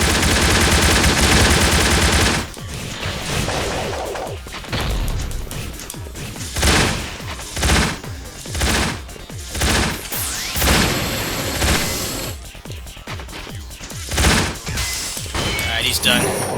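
Gunfire from a gun kata attack in the video game Raspberry Mash: a dense loud opening barrage, then rapid repeated shots and bursts in pulses, with someone talking over part of it.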